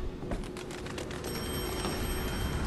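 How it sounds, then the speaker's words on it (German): A faint telephone ringing in the background in BioShock Infinite, a brief rapid bell trill heard behind a steady low hum. "Ich habe gerade schon wieder ein Telefon klingeln gehört."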